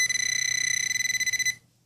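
Garrett Pro Pointer metal detector emitting a steady, clear electronic tone after a button press, close and fairly loud, holding for about a second and a half before cutting off abruptly.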